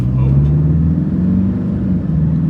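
A Toyota Hiace van with a tuned automatic transmission drives and accelerates, its engine drone steady and close as it rises through the gears, with a voice talking over it.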